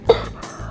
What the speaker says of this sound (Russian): аж кашляю.